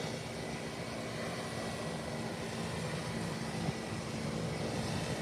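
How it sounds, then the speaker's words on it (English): A private aircraft takes off down the runway with a steady, broad engine roar that holds at a moderate distance and rises slightly toward the end, with no talking. "While the private aircraft is heading down the runway,"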